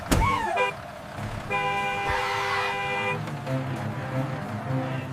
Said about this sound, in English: The horn on the bus goes beep, beep, beep.